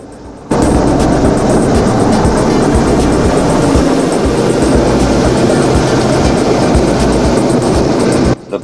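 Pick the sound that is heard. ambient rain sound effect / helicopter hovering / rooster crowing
helicopter hovering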